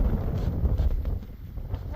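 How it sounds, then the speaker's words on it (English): Strong wind buffets the microphone outdoors at a Civil War rifle and Smith & Wesson pistol target practice, a loud rumbling roar that gusts unevenly throughout, with no voices. "it's windy today"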